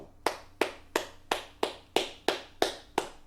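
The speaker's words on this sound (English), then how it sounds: "That is not sarcastic clapping." Eight sharp hand claps at a steady, unhurried pace, fairly close and even in loudness, with no voices.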